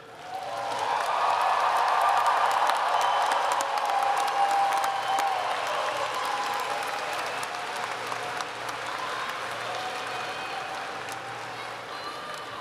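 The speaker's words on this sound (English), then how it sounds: "give a round of applause and appreciation to the faculty and the family and friends who supported you" A large crowd at an undergraduate commencement ceremony breaks into sustained applause that swells quickly, peaks early and then slowly tapers, with faint scattered cheers and voices mixed in.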